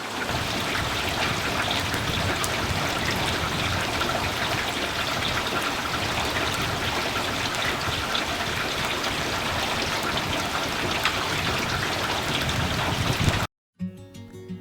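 Steady, dense rainfall patters and hisses continuously on surfaces, broken by a brief silence near the end.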